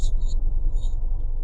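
A car idling in reverse gear during a driving test gives a steady, close low rumble, with faint intermittent high beeping tones above it.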